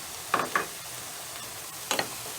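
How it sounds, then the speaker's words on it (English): Vegetables sautéing in a pan for Cajun dirty rice after Worcestershire sauce is added, with a low steady sizzle and two pairs of short scraping stirs. "Continue sauteing until you see your veggies start to soften up."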